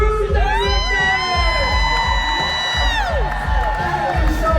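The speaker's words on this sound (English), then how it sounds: "Keep that applause going for Tyler, everyone" A large crowd cheers, whoops and applauds loudly and continuously for a host taking the stage aboard a cruise ship, with a loud, steady beat of music running under the noise.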